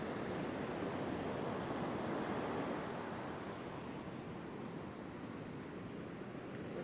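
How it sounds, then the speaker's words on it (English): Powerful ocean surf of about two-metre set waves breaks on a beach in a continuous, loud wash, swelling early and then easing slightly, with some wind and no voices. "You can see some of those waves out the back. They're still pretty solid out there."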